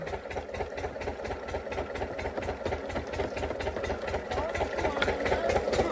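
An irrigation pump engine for paddy fields runs steadily up close, its rapid, even thumping pulses loud and unbroken throughout.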